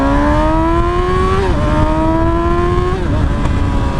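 A Yamaha motorcycle, either an MT-09 or a YZF R6, accelerating hard and loud up close, its engine note climbing steadily through two quick gear changes with brief dips in pitch between them.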